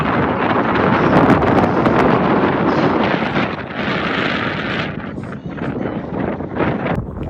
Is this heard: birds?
no